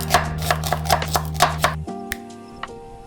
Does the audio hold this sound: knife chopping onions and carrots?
yes